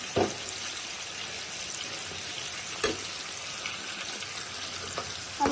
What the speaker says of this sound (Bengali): এবার আমি কষিয়ে রান্না করবো